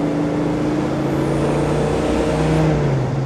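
A 1967 Chevrolet Chevelle SS convertible engine revs at about quarter throttle, giving a loud, steady, throaty drone through its speakers with a slight rise in pitch and no talking.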